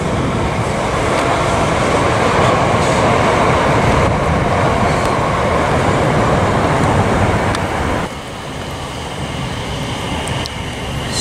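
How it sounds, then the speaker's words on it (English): Train rolling past at Lovers Walk, a loud continuous rumble and wheel roar close by that holds steady, then drops slightly as the carriages keep passing. "Still more trains to come."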